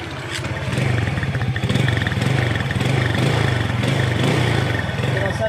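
A 2019 Loncin motorcycle engine runs close by with a steady, even putter and slight clatter, holding a constant idle with faint background voices.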